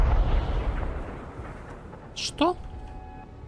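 A heavy booming blast from a tandem rocket shot in the video game ArmA Reforger rolls off and fades, followed by a brief hiss and a short rising whine, as from a distant explosion.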